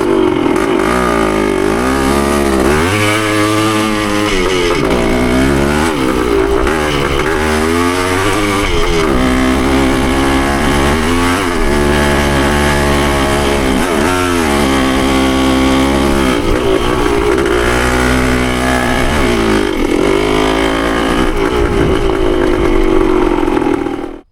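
A Yamaha CT3 175 motorcycle is ridden hard, its small single-cylinder engine buzzing loudly and revving up and down through repeated surges of acceleration and gear changes, continuous and close throughout.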